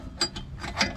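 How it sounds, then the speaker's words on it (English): A ratchet wrench turns on an O2 sensor of a 2014 Chevrolet Malibu LT, making about four quick, close clicking bursts in just under a second. "Make sure you get your ratchet on lock."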